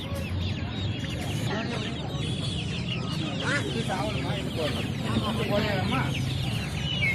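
A crowd of Giriraja chickens clucks and squawks continuously up close at the Melapalayam hen market in Tirunelveli, with people talking underneath amid busy market bustle.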